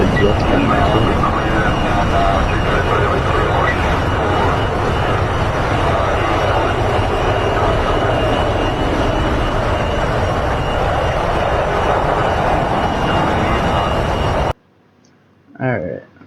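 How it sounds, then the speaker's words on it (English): Jet aircraft engine roaring steadily and loudly for a long stretch, a broad continuous rumble and whine that cuts off abruptly, followed by a brief voice. "The jet's coming out."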